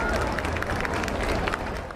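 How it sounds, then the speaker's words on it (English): A crowd lining the Royal Mile in Edinburgh applauds as a royal procession passes, a dense, continuous wash of clapping and cheering heard from within the throng, with crowd babble mixed in. "Down the Royal Mile, on a wave of applause"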